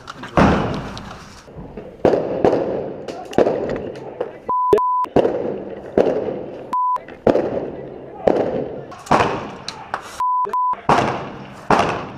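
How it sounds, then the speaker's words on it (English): Blank rifle fire during a milsim game in a rubble-strewn building, with sharp loud cracking shots in scattered singles and short bursts, interspersed with electronic beeps and players talking. "this Australian trooper picks up his friend's gun and returns blank fire"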